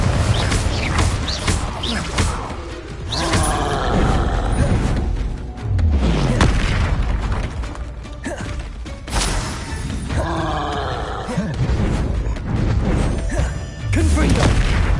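Repeated Confringo fire-blast spells in Hogwarts Legacy, a series of loud explosive booms and crashes with whooshing bursts spread across the stretch, some strikes landing close together, with occasional shattering debris.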